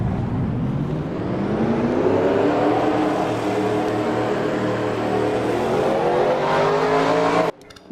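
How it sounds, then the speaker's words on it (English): Race car engines roar and rev together in a racing video game at a superspeedway, a loud sustained drone with rising pitch as the field accelerates, cutting off abruptly at the end. "Drivers, start your engines!"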